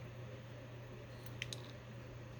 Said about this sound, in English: I know my scissors are huge, too.